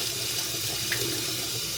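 Tap water runs hard at full strength over a DJI Osmo Action 6 camera held bare without a waterproof case, a loud, close, steady splashing rush with no voices.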